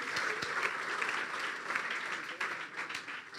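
A church congregation applauds during a sermon: a few seconds of steady clapping with sharp individual claps, moderately distant and fairly quiet, with no speech over it.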